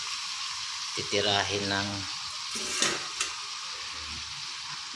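Food sautéing in a pan, a soft steady sizzle with stirring clatter and a couple of sharp utensil knocks, while a person speaks briefly over it.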